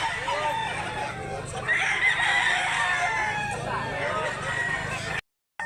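A gamefowl rooster of the Duke Hulsey Grey x McLean line crows close by on a farm, a drawn-out cock-a-doodle-doo rising over clucking and background noise, with people talking nearby.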